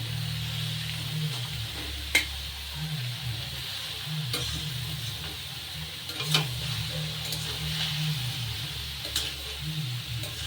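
Bottle gourd hits hot oil with cumin and green chillies in a pan, a steady close sizzle broken by sharp clicks of stirring against the pan.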